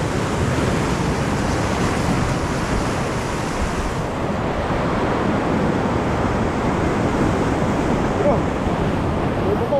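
Ocean waves roll and wash in a constant roar at sea, with wind buffeting the microphone and a faint voice briefly underneath.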